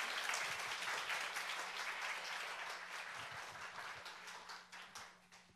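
An audience at a Friday church service applauds to welcome a missionary. The clapping is brisk and fairly distant, starts full and gradually thins and fades toward the end, with no talking over it.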